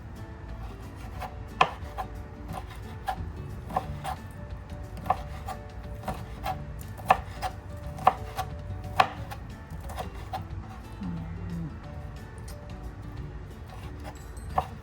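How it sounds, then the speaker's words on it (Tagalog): A knife chops shrimp on a cutting board for siomai in a run of crisp, irregular knocks at close range, with pauses between bursts. "Chop ko lang tong konti."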